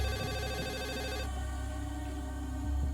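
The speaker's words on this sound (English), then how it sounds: "Phone rings" A telephone bell rings in a rapid electronic trill, loud and close, cutting off after about a second and leaving a low hum.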